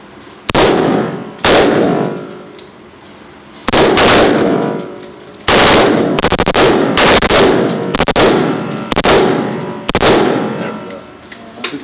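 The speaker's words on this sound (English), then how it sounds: "When you want to go full with your thumb, you push that forward one more time, and you start shooting." Military rifle with a muzzle brake fires close and very loud in several short full-auto bursts and single cracks, separated by brief pauses with ringing echoes.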